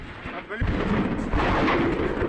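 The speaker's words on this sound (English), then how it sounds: "what we're hearing is the ammo cooking off within it" Deep, rumbling booms and crackling blasts roll continuously, loud and chaotic, as ammunition cooks off in an exploding depot in rapid succession at a distance.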